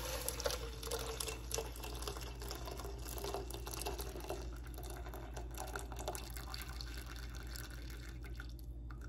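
Tea made with date-palm jaggery is poured into thickened milk, a steady, continuous liquid stream with small splashes and trickles running unbroken for several seconds, close and moderately quiet.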